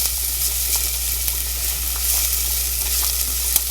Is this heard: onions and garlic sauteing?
yes